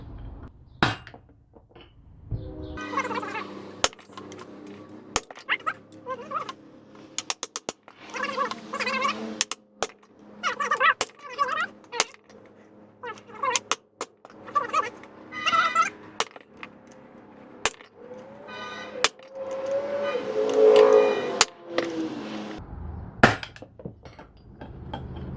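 A hammer repeatedly smashes a cheap, mushroomed socket to drive out a U-joint from a C10 pickup drive shaft. About twenty sharp metallic strikes come close and loud in an irregular rhythm, with brief pauses and light clinks between blows.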